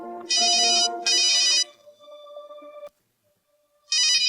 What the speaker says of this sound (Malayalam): ഒരു സെക്കൻഡ്, ഞാൻ ഈ കോൾ എടുക്കട്ടെ.